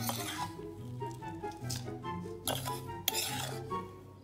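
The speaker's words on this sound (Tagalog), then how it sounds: "Haluin sa isang malaking mangkok." A spoon stirs coffee mate, coffee and sugar in a large bowl, giving repeated close glassy clinks and scraping in an uneven rhythm, one sharper knock near the end.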